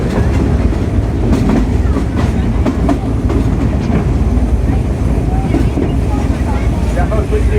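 The Frisco Silver Dollar Line amusement park train runs along its tracks with a loud, steady rumble and rhythmic clickety-clack, while a voice speaks over it.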